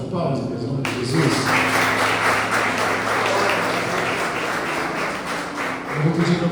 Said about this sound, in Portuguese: Recebe o pastor com uma salva de palmas, em nome de Jesus.